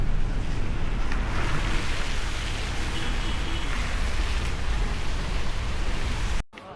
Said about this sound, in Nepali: एकदम पानी परिरहेछ यता चाहिँ